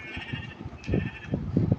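Sheep bleating in the Minecraft video game, several short wavering bleats in quick succession, loud and close with a faint tonal game hum underneath and no talk.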